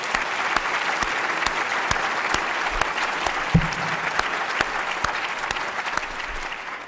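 An audience claps steadily to welcome FDA Tobacco Regulatory Science Fellows, a sustained even round of applause in a hall with a few louder individual claps standing out.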